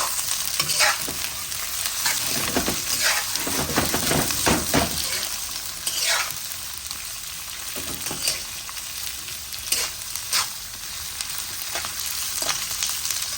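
Beef chilli with capsicum, carrot and bell pepper stir-frying in a light sauce, a steady close sizzle broken by repeated scrapes and stirs of a spatula.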